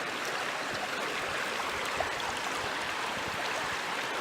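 A creek runs steadily along a bank where snakes and salamanders are found, its water making a constant broadband rush and gurgle that stays even and fairly close, with no voices.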